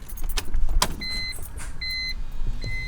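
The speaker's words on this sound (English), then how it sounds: "you can hear it priming." A BMW E46 M3 at key-on: a low steady hum as the fuel system primes, with a few repeated electronic chime beeps over a rumbling cabin background.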